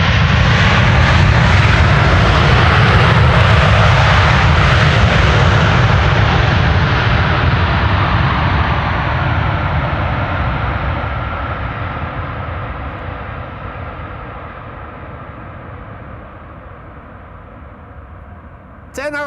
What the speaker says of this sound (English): That was a terrific landing.